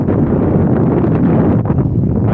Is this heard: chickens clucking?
no